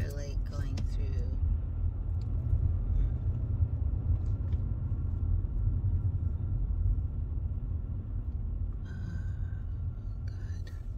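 Steady low rumble of a car driving, continuous road and engine noise throughout with faint higher sounds near the end and no clear talk.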